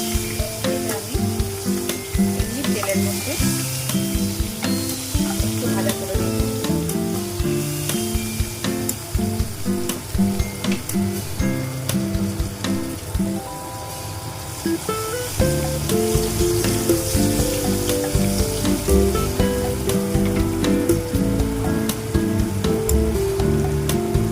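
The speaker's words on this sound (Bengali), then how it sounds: "টমেটো আমি ভাজা করে নেব" Continuous crackling and sizzling of tomatoes frying in hot oil, close and steady, with occasional scraping stirs and no voices.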